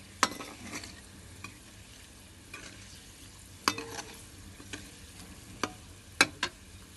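Cooking oil heats in a pan until it darkens, giving a faint, steady sizzle with a few sharp clicks and taps from stirring scattered through it; no voices are heard.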